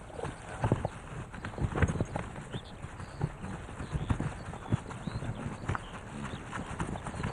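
Wild horses move across open ground, their hooves clip-clopping in loose, irregular beats at moderate distance. A stallion is among mares of his harem, and faint background ambience runs beneath the footfalls.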